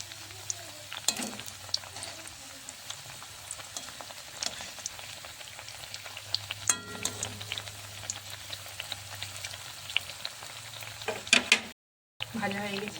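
Bread pieces frying in hot oil for a sweet dessert, a soft continuous sizzle with occasional stirring clinks and scrapes, close-up and fairly quiet, with a brief dropout near the end.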